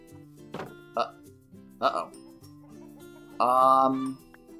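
Video game chickens cluck in short bursts with a louder, drawn-out squawk near the end, set against a steady low game background hum.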